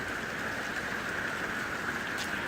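Steady rain pours down across a backyard, a dense continuous hiss of drops hitting surfaces, even and unbroken throughout with no voices.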